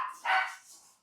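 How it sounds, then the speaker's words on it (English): A dog gives a single short bark, faint and some distance away, then the sound fades out. "You can hear the dogs barking."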